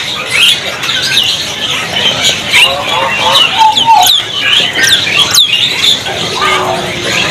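Starlings calling in a bird market kiosk, a busy mix of sharp chirps, squawks and whistled notes from several birds close by, with a voice talking underneath at times.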